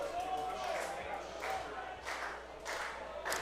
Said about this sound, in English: we hear the crowd getting behind the pitcher here a bit